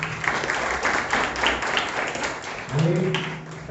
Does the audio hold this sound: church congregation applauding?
yes